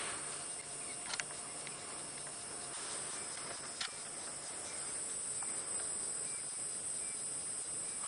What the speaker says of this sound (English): The cicadas in the background as well. That's that high-pitched noise that you're hearing